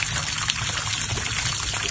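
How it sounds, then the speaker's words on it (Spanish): Water pours and trickles steadily at a Florida Keys spot near Marathon and the Seven Mile Bridge, a continuous broadband rush close by with no talk over it. "Ellos escuchan el ruido del agua"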